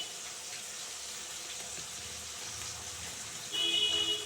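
Water poured into ground spices in a pan for a tangra fish curry gives a steady, even rushing hiss that grows a little louder and shifts near the end, with no talk.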